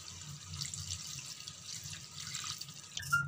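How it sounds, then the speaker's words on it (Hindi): A cup of water is poured into chicken masala in a pan, giving a soft, steady trickling splash that stays faint and close throughout, with a short clink at the end. "अब इसके अंदर हम 1 कप पानी ऐड कर देंगे"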